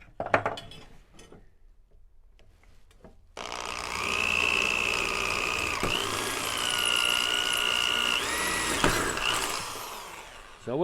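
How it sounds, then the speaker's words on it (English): A power drill bores a 3/16 inch hole through center-punched metal on a small farm, a sustained close whine with pitch shifts as the bit bites, after a few quiet taps and clicks. "drill a hole with a 3/16, and we will use this in a minute"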